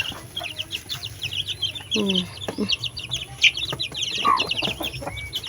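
Backyard hens kept at home, two of them with newly hatched chicks, give scattered clucks and short high chirps at close range, with light talking now and then in the background.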